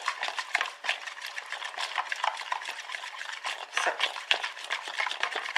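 Cold porcelain paste is stirred with oil and white vinegar in a bowl, giving a close, steady run of wet scraping and clicking strokes with a utensil, with a brief spoken word.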